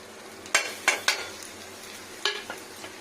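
Garlic and whole green chilies sizzle in hot oil in a pan for a chicken curry, with a few sharp stirring scrapes rising over a steady low frying hiss.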